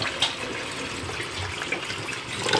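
Running water for soaking cabbage, a steady tap-like splash and trickle that continues evenly throughout with no talking.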